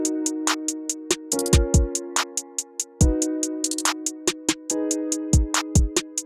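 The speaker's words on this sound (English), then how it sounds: "I found this piano on Nexus" A dreamy, ethereal piano patch from the Nexus plugin plays a repeating melodic figure of sustained notes, accompanied by quick, crisp ticking hits in a steady pattern.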